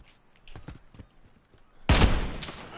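A sudden loud burst of gunfire erupts in a video game after a stretch of quieter clicks and movement sounds, ringing out close and dense toward the end.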